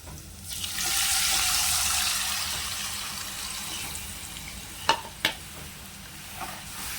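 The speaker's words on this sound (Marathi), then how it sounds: "थोडंसं बेडगी मिरचीचं लाल तिखट घालायचं आणि आपली कडी घालायची" Kadhi poured into a pan over a low gas flame for pakoda kadhi, a soft sustained liquid rush and sizzle lasting a few seconds, followed by a couple of sharp clinks of a utensil against the pan.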